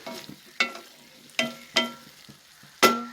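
Masala sizzles softly in a pan for egg curry while a spatula stirs it, with sharp scraping knocks at irregular intervals.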